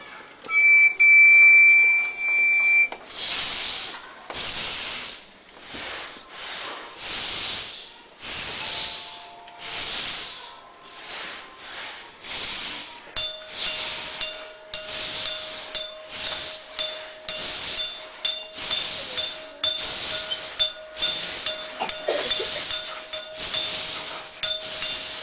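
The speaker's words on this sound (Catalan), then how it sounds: "s'escoltava el fort soroll de la canderola, un tramvia a vapor que anava de Castelló a Almassora tots els dies" A steam tram running between Castelló and Almassora, performed as a concert sound effect, gives repeated rhythmic hisses and steam bursts in a chuffing pattern, with a steady whistle-like tone held through the second half.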